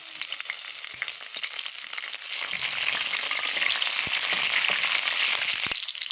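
Curry leaves hit hot oil with cumin and browned onion, giving a loud, steady, dense sizzle and frying crackle that holds for several seconds with occasional stirring scrapes.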